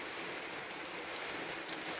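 Steady rain falls on a spring village yard, a soft even hiss of drops on surfaces continuing throughout with no pauses.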